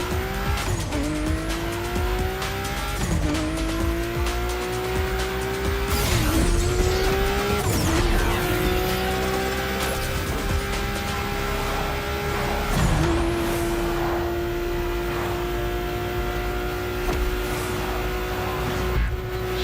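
A racing video game car roars loudly, with repeated tire squeals and skids as it brakes and shifts, the engine pitch sagging and rising throughout.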